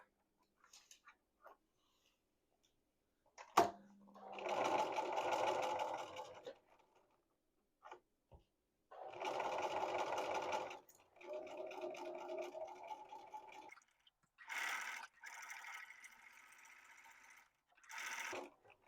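A domestic sewing machine stitches fabric in several close, quiet bursts of rapid mechanical whirring, separated by pauses and small clicks as the needle stops down and the fabric pivots.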